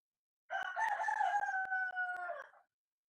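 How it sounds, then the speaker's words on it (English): Rooster crowing once, a single drawn-out cock-a-doodle-doo about two seconds long, clear and fairly close in otherwise quiet surroundings. "Rooster, cock, crow."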